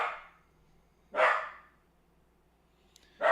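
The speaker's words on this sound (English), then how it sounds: "Maxie's barking too." A dog named Max barks in short, sharp bursts: one at the start, another after about a second, and a third at the end, with quiet gaps between them. The barks are moderately close, and no one talks.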